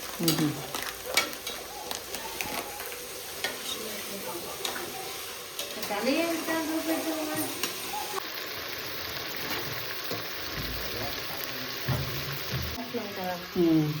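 Natukodi (country chicken) biryani ingredients frying and sizzling in a pot as they are stirred and scraped, with steady crackle, irregular utensil clinks and some faint talking over the cooking noise.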